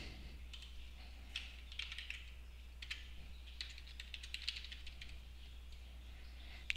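Login credentials being typed on a computer keyboard: irregular bursts of light key clicks at close range over a steady low hum, with no voices.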